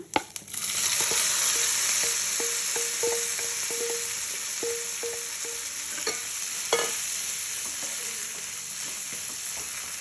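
Vegetable palya stir-fried in a pan, a steady close sizzle running throughout with repeated scraping stirs of a spatula at a loose rhythm.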